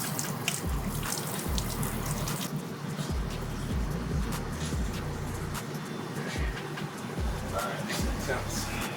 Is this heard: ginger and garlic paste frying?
no